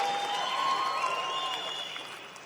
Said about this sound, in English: This crowd is all here for you. And what a crowd it is.